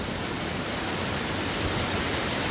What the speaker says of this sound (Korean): 이렇게 폭포가 돼서 내려옵니다